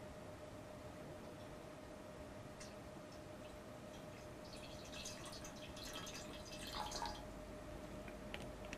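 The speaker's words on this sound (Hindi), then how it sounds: "जैसे ही मैं इस बर्तन में पानी डालती हूँ" Water poured into a vessel holding a coin, heard as a quiet steady trickle with faint splashes and drips growing busier toward the end.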